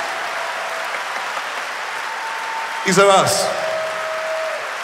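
A concert crowd at Sava Centar applauding steadily as a broad wash of clapping, while someone speaks briefly over it into a microphone.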